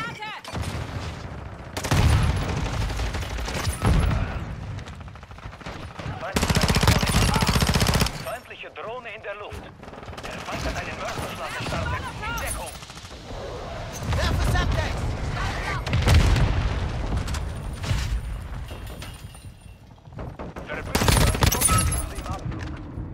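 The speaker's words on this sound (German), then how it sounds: "Achtung, Granate!" Game explosions and rapid gunfire from a Call of Duty multiplayer match, with loud bursts and blasts recurring through the clip while a voice talks over the action.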